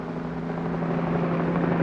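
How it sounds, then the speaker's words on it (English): A police helicopter whirls over a city, its steady rotor and engine drone holding at a constant level with a strong low hum throughout. "We're whirling over the city, a police helicopter reports traffic movement to the operations center."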